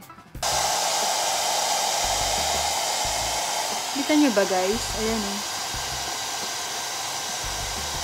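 A hair dryer blows on mascara-coated eyelashes, a steady close whooshing roar that starts abruptly and runs throughout, while someone talks briefly over it.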